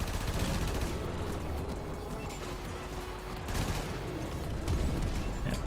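Dense, continuous gunfire in a shooter video game, rapid overlapping shots and bursts forming a loud, unbroken clatter with scattered heavier impacts, as if mid-battle.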